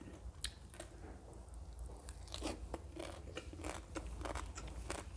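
Close, wet crunching and chewing of green papaya salad with raw fermented fish, repeated bites and mastication sounds in a quiet setting with a low background hum.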